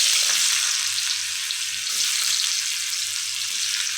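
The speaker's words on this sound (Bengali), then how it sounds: "আলুগুলো দিয়ে দিচ্ছি। এখন আলুগুলোকে ভালোভাবে ভেজে দেবো, লাল লাল করে আলুগুলোকে ভেজে নেব।" Potatoes fry in hot oil for noodles, a loud, dense, continuous sizzle with a low bubbling undertone, steady from start to finish.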